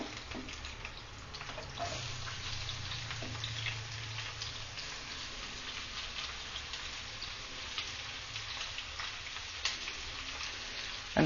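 Onions fry in a hot pan with green chilies for mutton curry, a dense crackling sizzle like light rain that holds steady and fairly quiet throughout.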